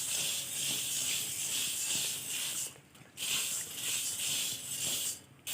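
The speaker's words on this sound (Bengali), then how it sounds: "এইবারে আমি কড়াইতে মুড়িগুলোকে দিয়ে দিচ্ছি। মুড়িগুলো যেহেতু নরম হয়ে থাকে, তাই আমি এগুলোকে একটু হালকা করে ভেজে নেব।" Puffed rice (muri) lightly frying in a wok, a steady close hiss and crackle interrupted by a couple of brief pauses, likely from stirring, with no talk.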